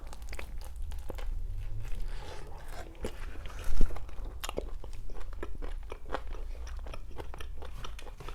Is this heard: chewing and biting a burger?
yes